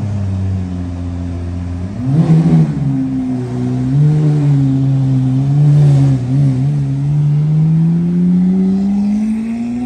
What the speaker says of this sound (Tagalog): Ang pakaingay ng kotse.